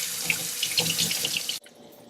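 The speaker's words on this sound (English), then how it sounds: "Then rinse it till nice and clean and drain off all the excess water." Goji berries rinsed under a running kitchen tap, with a steady splashing gush of water that cuts off abruptly near the end, leaving quiet room tone; no voices.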